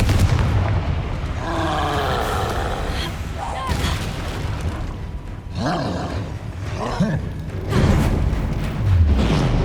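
In the Hogwarts Legacy video game, the Confringo fire spell erupts in loud, rumbling booms and roars within a dense, continuous game soundscape. Layered whooshes and impacts recur throughout.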